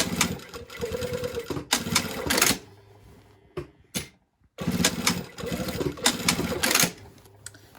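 A sewing machine backstitches over the yoke seam of a pair of jeans in two rapid, rattling bursts of stitching, each a couple of seconds long, separated by a pause with faint handling clicks.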